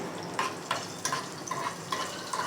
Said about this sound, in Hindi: इसको भी हम हल्के से सौटे करके